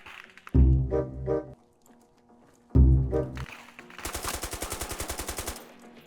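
In the video game Squad, two heavy booming blasts a couple of seconds apart, then a rapid burst of automatic gunfire with sharp, evenly spaced shots.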